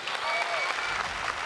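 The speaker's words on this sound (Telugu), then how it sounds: "Claps, come on." An audience claps on cue during a Telugu television game show, the applause dense and steady across a short burst.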